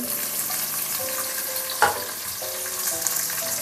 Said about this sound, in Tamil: இதுக்கப்புறம் வெங்காயம், நல்லா வதக்கி